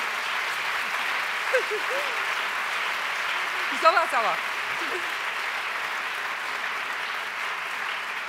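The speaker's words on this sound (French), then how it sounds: "On l'applaudit peut-être pour la soutenir." Steady applause from an audience at an awards ceremony fills the whole stretch, a dense even patter, with a few brief spoken words in French rising above it near the middle.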